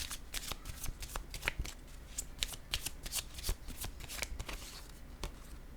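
Tarot cards being shuffled by hand, a run of crisp riffling snaps and flutters repeating in an uneven rhythm, close and fairly quiet, with no talking.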